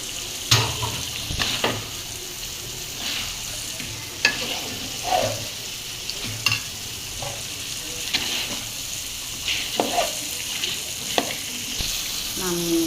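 Chicken meat with potatoes frying in a pan, sizzling steadily while a utensil stirs and scrapes at irregular intervals, close and moderately loud, with no talking.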